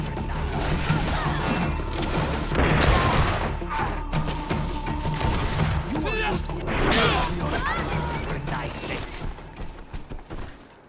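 Gunfire rings out during a fight in the video game GreedFall, a dense run of loud shots and crashing impacts over a steady game soundscape, with voices talking throughout.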